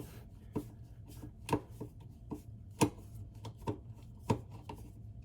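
Old power outlet socket screws being unscrewed, a series of faint, irregular close clicks and scratchy ticks of a screwdriver, about eight sharper snaps over a quiet low hum.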